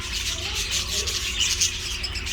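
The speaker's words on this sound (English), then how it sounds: "Wow, lots of birds. We're in the bird house." Many birds in an indoor bird house chirp and tweet continuously in a busy, overlapping chorus that is fairly close, with low rumbling room noise underneath.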